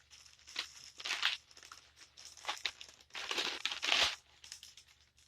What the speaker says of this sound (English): Don't you just love the sounds of packaging?